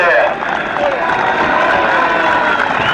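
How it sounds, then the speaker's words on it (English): Crowd cheering and applause at a Yate Town v Cinderford Town Evo Stik Southern League playoff final trophy presentation, a steady dense roar of many voices sustained throughout with some talk mixed in. "Come on, let's give him a big cheer."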